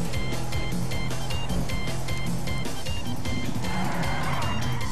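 Car drifting in GTA V with a continuous loud engine roar and a steady high-pitched tire squeal running throughout, with no talk.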